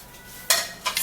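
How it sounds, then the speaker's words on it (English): A spoon stirs a drink of parsley, pear and cucumber, giving two short close scraping swishes, a sharp one followed by a quicker one, without talking. "So after turning this in, I'll give it a stir."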